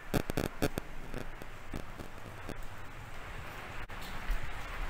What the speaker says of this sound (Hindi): बाहर पड़ रही बारिश